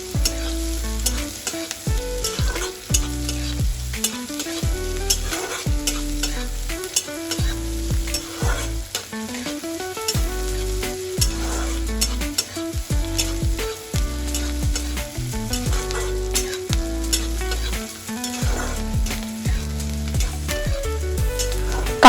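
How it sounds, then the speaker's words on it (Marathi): Chopped onion frying in a pan while being stirred until it browns, a steady close sizzle under repeated scraping stirs, with loud patterned music running throughout and no talk. "हा कांदा सुद्धा लाल होईल तोपर्यंत चांगला परतवून घेणार आहे."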